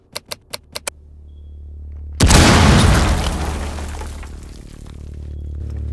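A single loud breaching explosion blows through a wall in a live-action Rainbow Six Siege recreation, preceded by five sharp rhythmic clicks, then a heavy boom with debris crashing and a long rumbling decay.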